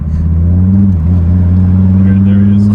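A car engine pulls hard in second gear, a loud steady drone holding close throughout with a slight dip near the middle, making heavy torque.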